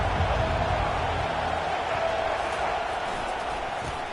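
Football stadium crowd at a college game against Louisville, a dense continuous roar of many voices filling the whole stretch, steady and loud with no distinct cheers.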